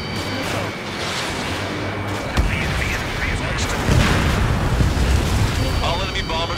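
In a video game, missiles explode one after another, destroying enemy bombers in a rumbling spread of booms and blasts while a voice talks over the fighting.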